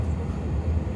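A low, steady rumble of engine noise filling the cabin of an ANA DHC-8-Q400 turboprop after landing at Chubu Centrair Airport, constant and unbroken with no voices.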